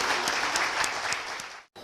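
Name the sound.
audience applause welcoming a speaker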